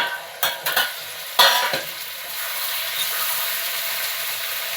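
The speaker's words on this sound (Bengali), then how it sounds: "দিয়ে এটাকে আবার নাড়াচাড়া করবো" Taro, potato and prawn curry in a pan: a few sharp spoon scrapes and clatters of stirring at first, then a steady close sizzle and hiss, with no voices.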